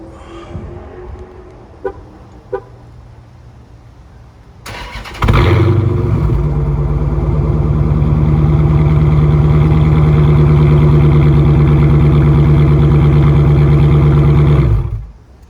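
A Dodge Challenger R/T fitted with an SOP Loudmouth exhaust kit starts with a sudden bark, then settles into a loud, deep, rumbling idle heard up close for about ten seconds before shutting off.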